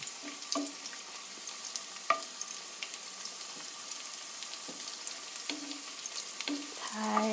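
Garlic fries steadily in a pan until golden, a soft continuous sizzle with scattered pops and occasional spatula scrapes close by.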